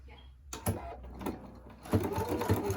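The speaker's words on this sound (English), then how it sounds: "I'm just going to stitch right down there." A sewing machine runs in brief bursts while stitching down a rectangular fabric mask, its rapid rhythmic needle chatter close by, with a voice talking over it.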